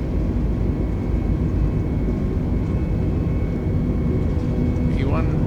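Airbus A320 takeoff in Microsoft Flight Simulator 2020: a steady, loud jet engine roar with a constant low rumble and faint high whine, accompanied by a few brief chirping tones near the end.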